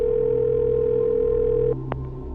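A steady telephone tone sounds while a call is placed, a continuous close note that cuts off near the end, followed by a brief short beep.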